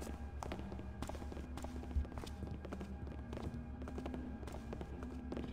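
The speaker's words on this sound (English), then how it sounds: "Hearing lots of footsteps everywhere." Footsteps in a Thief fan mission, a stealth video game: quiet, regular steps tapping in a steady walking rhythm over a low background hum, with one slightly louder thump partway through and no talking.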